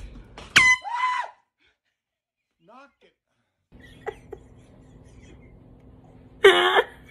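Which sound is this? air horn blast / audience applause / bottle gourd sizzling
air horn blast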